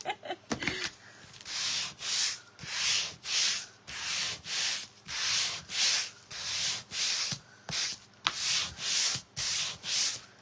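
A wooden tag is scuffed by hand with rhythmic back-and-forth rubbing strokes, about a dozen even sanding passes close up, steady and unhurried with brief pauses between.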